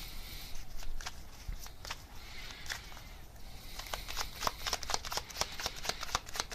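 Tarot cards shuffled close by, a run of crisp riffling slaps that grows denser and louder toward the end, with no talking.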